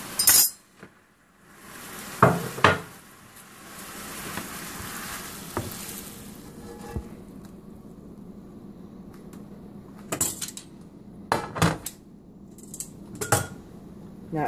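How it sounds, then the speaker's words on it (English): Cheese steak meat being chopped on a cutting board, heard as scattered sharp knife knocks and clinks, several in quick clusters, over a steady background sizzle of frying. "we're going to put it on our cutting board and chop it up"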